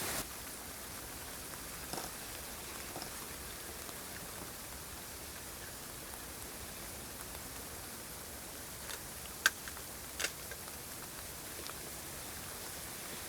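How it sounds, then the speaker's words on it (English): Rain falls steadily in a winter forest, a soft, even hiss with occasional louder drips, quiet and distant with no voices. "I'm waiting here a few moments till the rain stopped a little bit."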